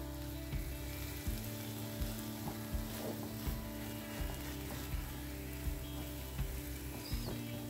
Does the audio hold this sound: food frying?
yes